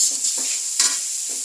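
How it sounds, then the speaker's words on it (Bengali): Grated coconut fries in hot ghee, making a loud, constant sizzle with a few soft stirring strokes scraping through it. "ঘি দেওয়া আছে, নারকেলকে ভেজে নিচ্ছি"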